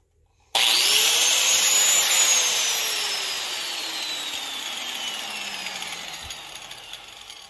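A 4-inch, 5.8-amp angle grinder powered through a 5000-watt inverter running off two batteries kicks on abruptly after a short silence. It settles into a loud, steady, close whine that eases slightly as it runs, with no talking.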